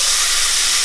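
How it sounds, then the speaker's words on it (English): A loud, steady steaming hiss as tomatoes hit a hot pan, filling the moment with continuous bright sizzle. "Now I'm going to add my tomatoes, and this is going to sizzle and steam."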